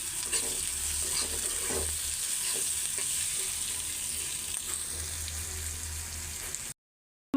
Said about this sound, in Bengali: আমি এখন এই যে ডিমের তরকারিটা রান্না করে নিতেছি, ডিম ভুনা করব